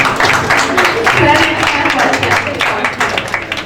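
Students and teachers at a Bible college preaching session give a young woman preacher loud, dense applause that holds steady and then thins slightly toward the end, with voices mixed into the crowd noise.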